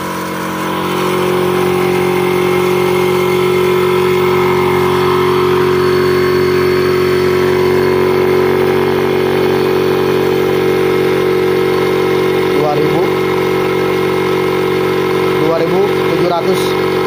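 A high-pressure compressor pump runs steadily, filling a PCP air rifle tank; a loud, continuous motor drone with a strong hum holds throughout, and voices speak over it near the end.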